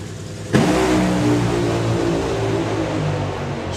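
A supercharged drag racing car launches hard at Bug Jam and tears down the strip, its roar loud and close at first, then holding a strained rising drone as it pulls away, with no talk over it.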